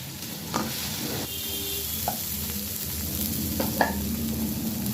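Spice paste with cumin and turmeric powder and ground tomato frying in a pan, a steady loud sizzle with occasional spatula scrapes and stirring clinks.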